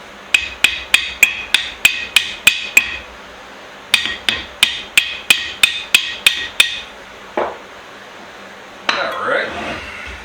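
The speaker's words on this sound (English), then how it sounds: "I guess I can use just a little ball peen." Sharp metallic taps from a small ball peen hammer ring out in two quick runs of about eight even strikes on a vise, followed by a few scattered clanks and scraping.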